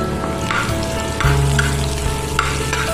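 Butter melting and sizzling in a frying pan before the garlic and fish go in makes a loud, steady, close hiss with a low steady hum underneath and no voices.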